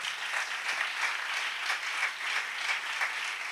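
Steady applause from a church congregation, a dense wash of many hands clapping at moderate volume with gentle swells, no voices standing out.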